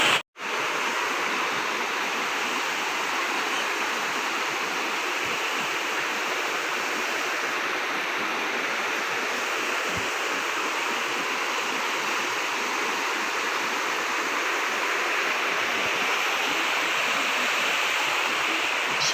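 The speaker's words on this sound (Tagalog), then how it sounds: "So, may mga tubig siya galing sa bundok." Mountain stream water rushing steadily during heavy rain at a riverside resort with cottages, a loud, continuous broadband roar that stays even throughout with no voices.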